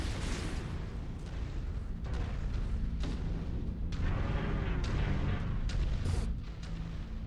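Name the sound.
gunfire and explosions in video game Mechwarrior 5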